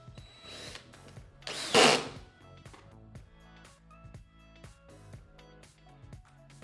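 A power drill drives 14.5 mm system screws into Blum Revego cabinet hardware: one brief, loud whir amid quiet ticking and handling noises.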